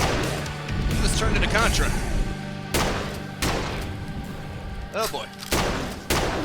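Scatter gun firing in the first-person shooter Age of Hell, a few loud broadband blasts spaced irregularly over a busy game soundscape, with someone talking over them.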